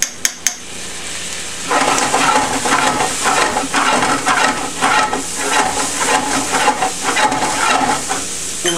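Onions, garlic and red pepper flakes fry in a pan with a steady sizzle, broken by a few sharp utensil clinks at the start and repeated stirring scrapes throughout.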